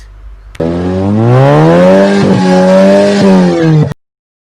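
A 2009 Nissan Grand Livina engine revs up steadily and holds a high, droning pitch for a few seconds before cutting off abruptly.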